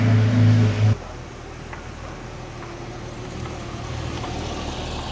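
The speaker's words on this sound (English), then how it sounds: "Race cars coming in." Porsche race cars arriving at a large Porsche event in Australia, a loud engine burst cutting off abruptly, followed by a steady background of distant idling and rumbling engines.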